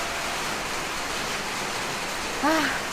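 Dense, steady wash of rain falling at the seaside on Koh Chang island, fairly loud and unbroken, with a brief voice cutting in near the end.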